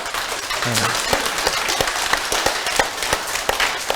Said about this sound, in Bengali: তাহলে এবার আপনারা ঘুম তাড়ানোর জন্য জোরে হাততালি দিতে হবে